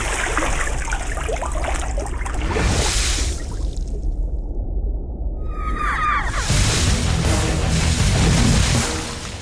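Water gushes and splashes in loud, noisy bursts, breaking off into a brief near-silence with a few high chirps before a heavy rush of water returns.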